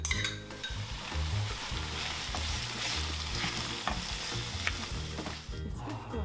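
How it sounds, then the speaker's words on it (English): Vegetables and aubergine frying with vinegar in a pan, a steady close sizzle with occasional clinks and scrapes of a utensil stirring, no talk. "He adds this to the vegetables, followed by the aubergine."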